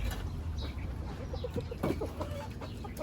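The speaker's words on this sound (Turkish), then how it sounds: "Tavuklar da ne bileyim ya, panik oluyor" Panicked backyard chickens cluck repeatedly over a steady low background rumble, several birds calling at once from close by.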